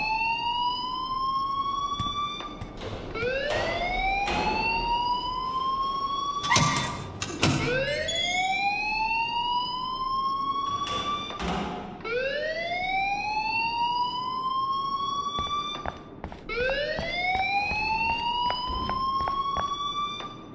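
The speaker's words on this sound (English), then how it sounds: "please turn off that alarm since that's your job" A school alarm in the game Life Is Strange wails in repeated rising sweeps, each climbing in pitch and then cutting off before the next begins, steady and fairly loud throughout with a few clicks and bumps between cycles.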